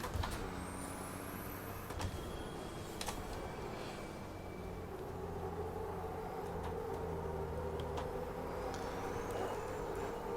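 A Formula Truck racing engine in a sim racing game: a steady, continuous rumbling drone with faint whining tones and occasional brief clicks, fairly even throughout and without talking.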